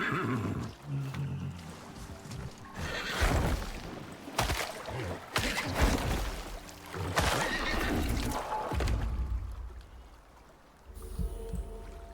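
A large zebra-like horse creature in the survival video game Icarus lets out several loud neighing calls in bursts, with gameplay sounds and faint background noise between them.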